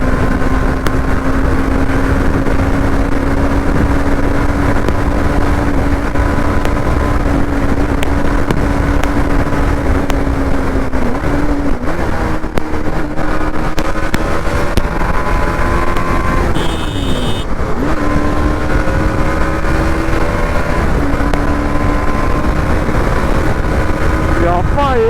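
Modified cars fitted with aftermarket exhausts drone steadily and loudly nearby, engine notes shifting pitch as they rev, with strong wind buffeting the microphone throughout.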